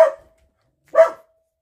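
Two sharp, close barks from small dogs, spaced about a second apart, with silence between and after.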